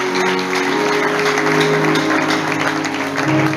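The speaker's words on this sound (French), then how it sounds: "On nous applaudit le Seigneur." A church congregation applauds the Lord during a Friday deliverance service, the sustained crowd clapping blending with a droning organ or keyboard tone and other steady background sound.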